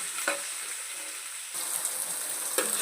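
Onions and green chillies frying in hot oil in a pan, a close, steady sizzle with a few scraping stirs, briefly quieter then picking up again, with no talking.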